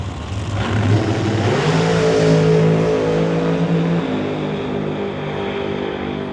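A drag racing car launches down the track at a Mission, BC event, its engine roaring loud and close at first, then rising in pitch and fading into a sustained distant howl as it pulls away.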